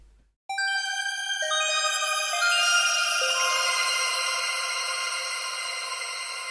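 A NuRack vocoder with its feedback dial near 80% sets off a sudden bright electronic tone that stacks into sustained ringing layers. It stays loud and steady after a silent start.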